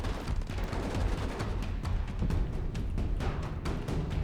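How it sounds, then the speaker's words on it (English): An MG3 machine gun in WARNO rattles out steady rapid bursts of fire over a rumbling battlefield backdrop, the shots landing as dense repeated cracks at moderate distance. "That MG3 sounds so awesome."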